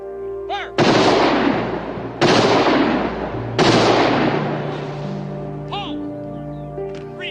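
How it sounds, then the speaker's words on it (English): A firing squad delivers three loud rifle volleys at a military funeral, evenly spaced about a second and a half apart, each sharp crack trailing into echo, with faint shouted commands between. "Detail, ready? Aim, fire!"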